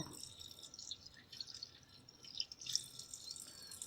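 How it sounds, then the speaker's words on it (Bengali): Fish being rinsed in water, with soft irregular drips and splashes and a faint trickle, quiet and close, no speech. "এখন কয়েকবার পানি দিয়ে ধুয়ে নেব"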